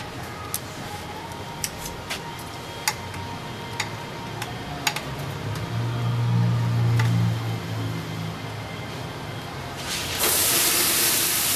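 Marinated, oily carne asada hissing on a hot grill: a steady sizzle broken by sharp ticking pops, swelling louder in the middle and again near the end.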